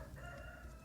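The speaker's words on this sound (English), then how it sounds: "can you hear the roosters? I don't know if you can hear the roosters in the background." A rooster crows in the distance, faint and drawn out over a steady outdoor hum.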